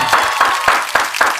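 An audience breaks into applause to welcome a guest speaker at a talk, with dense, steady clapping filling the short stretch at close range and no clear speech over it.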